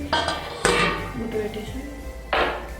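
A metal lid set onto a cooking pot of simmering pongal, giving a few sharp clinks and clatters at the start and again near the end, close and fairly loud over faint background murmur.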